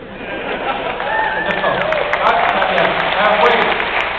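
Audience applause at a live comedy show in the Castro theatre, a steady broad wash of clapping that swells slightly and holds for several seconds, with the crowd's mixed noise underneath.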